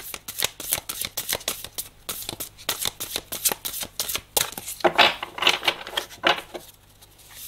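A deck of tarot cards is shuffled by hand for a reading, a rapid run of crisp, close riffling bursts and flicks repeating in quick irregular rhythm, with only brief pauses.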